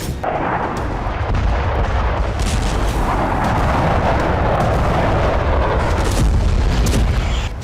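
Deep, heavy rumble from a strike on a Scud missile depot in Syria, a sustained, loud booming roar that keeps rolling for several seconds without letting up.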